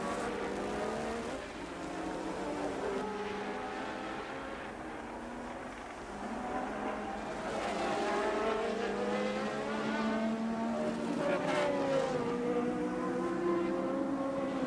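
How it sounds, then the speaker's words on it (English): Formula 1 cars from 1982, Renaults and Ferraris, race past with high, wailing engine notes rising and falling, several cars overlapping in a continuous loud roar heard from trackside. "Up at the front, the Renaults were racing the Ferraris"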